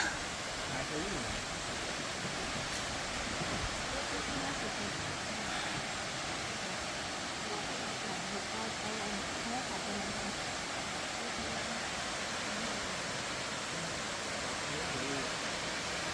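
A broad, steady rush of a waterfall in a valley in southern Laos roars evenly and fairly loud throughout, with no pauses.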